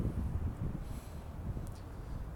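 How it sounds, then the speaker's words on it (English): Steady low rumbling wind buffeting a microphone outdoors on a sunny day, continuous and fairly loud, with faint rustling and no voices. "it's a little windy today, so I'm going to try to cover the microphone as much as I can"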